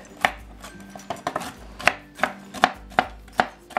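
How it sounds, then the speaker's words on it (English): Dry roasted peanuts being roughly chopped with a knife on a board, a series of about ten sharp, close thuds in an irregular rhythm with faint rattling between strikes, no voices. "We're roughly going to give these dry roasted nuts a rustic little chop."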